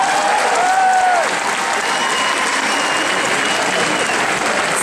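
Loud, sustained applause from an audience at a civic service anniversary event, a dense steady roar of many hands clapping with a brief voice at the start.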